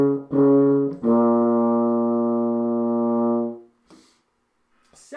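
A low brass trombone holds a sustained note in the correct slide position, preceded by a brief tongued start and ending abruptly, followed by faint breathy handling noise.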